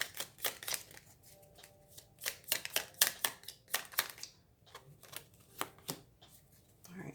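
Tarot cards being shuffled by hand, a string of crisp riffling clicks and snaps in irregular bursts, close and fairly quiet.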